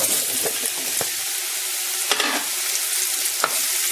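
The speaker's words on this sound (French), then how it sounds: "J'ajoute les champignons." Mushrooms sizzle in a pan of hot olive oil with garlic, a steady close frying hiss broken by a few sharp utensil scrapes and clicks as they are stirred, with no talking.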